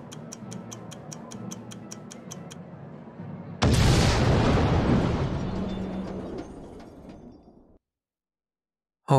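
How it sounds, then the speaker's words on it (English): In The Great Ace Attorney Chronicles video game, an invention blows up in a huge, sudden blast. A steady clock-like ticking comes first, then the explosion roars and slowly fades into silence. "the enormous explosion that ripped through the experimentation stage at the Great Exhibition"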